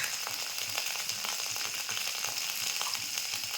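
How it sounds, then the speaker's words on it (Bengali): Ginger, turmeric, cumin powder and salt masala cooks down in hot oil with a little water, giving a continuous close sizzle broken by regular soft stirring scrapes, with no voices. "মশলাটাকে ভালো করে কষে নেবো"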